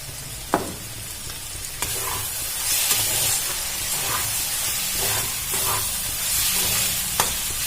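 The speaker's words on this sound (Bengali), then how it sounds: "ভালো করে নাড়াচাড়া করে ভেজে নেব।" Mustard and green chili paste with tomato sizzles and fries in a pan while being stirred, a steady close hiss with a few sharp scraping knocks of the spoon scattered through.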